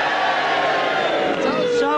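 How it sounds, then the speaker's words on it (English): A studio audience at a television panel show gives a brief, steady burst of crowd cheering lasting about two seconds, a broad wash of voices at an even level. "Now, cheer if you thought David won."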